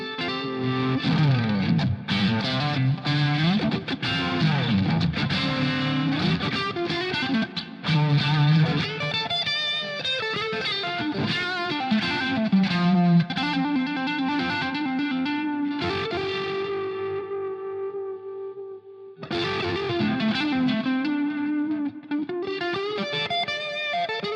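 Distorted electric guitar with a shimmering chorus effect, through an effects loop into Greenback speakers, in a psychedelic blues rock tone; strummed chords and picked notes ringing out, continuous and fairly loud, with a brief pause near the end.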